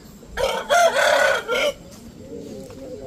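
A rooster crows loudly and close by, a drawn-out call with a few breaks, then fades into quieter clucking and background farm noise from chickens in a coop.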